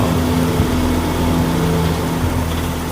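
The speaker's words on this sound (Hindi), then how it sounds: "और इंजन की धीमी घरघराहट।" An auto rickshaw's small engine rumbles loudly and steadily nearby, a low droning hum with a faint rattle and no pauses.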